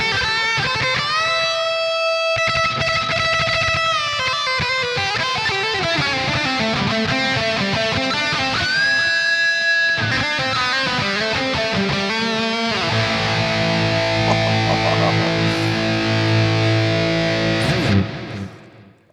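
A Squier Debut Series electric guitar plays a sustained, heavily distorted stadium-style lead through a bridge pickup, with bends and held notes swimming in lush reverb. It is loud and alone, fading out at the end.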